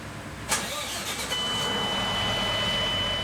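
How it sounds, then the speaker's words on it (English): A tour boat's engine cranks over and catches with a sharp burst, then settles into a steady car-like idle with a thin high whine riding above the low hum. "Why does it just sound like a car when you turn it on?"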